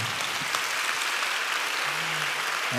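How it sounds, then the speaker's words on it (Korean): A church congregation at a Sunday worship service gives sustained applause, a thick, uniform roar of clapping; a faint held musical tone surfaces toward the end. "우리 하나님께 감사와 영광의 박수 올려드리겠습니다"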